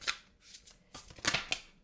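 A deck of tarot cards is shuffled up close, giving quick papery riffling swishes in a few short bursts with brief pauses between them.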